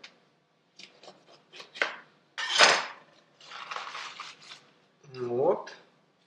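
A knife chops through vegetables on a board in a few scattered cuts and scrapes, with quiet speech mixed in.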